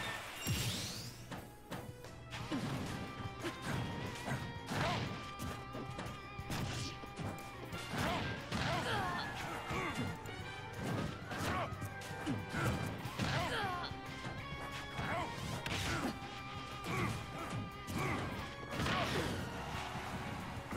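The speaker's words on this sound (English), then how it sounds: "Another forward smash from Lucario" Lucario landing forward smash hits in a Super Smash Bros. match, a string of loud crashing impacts and whacks spread across the stretch over busy game music and effects.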